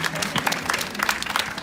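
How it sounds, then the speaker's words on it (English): A crowd at a tenth-anniversary presentation breaks into a round of applause, dense, lively clapping with some crowd noise that stays loud and busy for a short burst. "so a round of applause for that."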